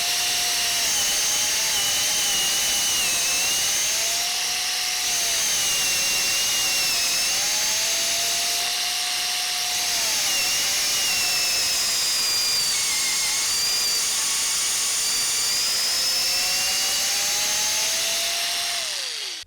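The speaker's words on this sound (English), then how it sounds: "You can hear that higher rev on that motor, and that is what gave this drill the sound" An old cordless drill motor whines steadily at high revs while drilling, pitch sliding up and down as it bites, loud and close.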